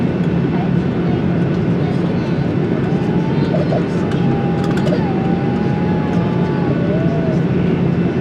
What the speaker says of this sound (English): We're on a plane.